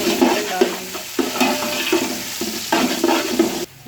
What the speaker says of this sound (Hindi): अब मैं इसमें डाल देती हूँ लहसुन और अदरक जो चॉप किए हुए। एक मिनट तक फ्राई करेंगे।